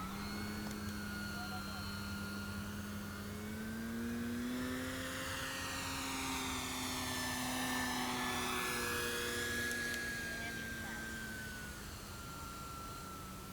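An E-Flite Night Timber X Evolution RC model airplane flies a slow pass with full flaps deployed, its electric motor giving a steady, near buzzing whine whose pitch rises and falls as it passes, with a voice talking over it.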